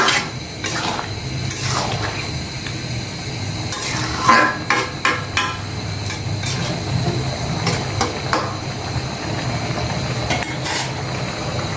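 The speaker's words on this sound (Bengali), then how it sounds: "মশলাটা দেওয়ার পর মশলাটা লাউয়ের সাথে ভালোভাবে মিশানোর জন্য ভালো করে নাড়াচাড়া দিয়ে নিব, যাতে মশলাটা ভালোভাবে মিশে যায়।" Spiced bottle gourd being stirred in a cooking pot, a steady scraping and clinking of spoon against metal over a soft sizzle, repeated strokes running throughout with no talking.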